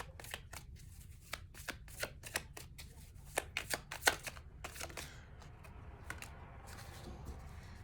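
Tarot cards being shuffled and drawn by hand, a run of quick, crisp papery snaps and riffles at close range, irregular in rhythm, quiet overall and without talk.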